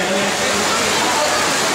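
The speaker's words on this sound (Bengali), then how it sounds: "বৃষ্টির আওয়াজে" Dense, steady hiss of heavy rain falling on surfaces, filling the short clip without pause.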